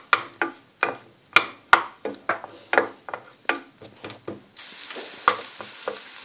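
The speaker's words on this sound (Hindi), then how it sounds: "अब मैं इसमें इसको पहले फ्राई करूंगी प्याज को।" Chopped onions frying in hot melted butter in a pan, with a steady sizzle and repeated scraping strokes of a spoon, close and moderately loud, no talking.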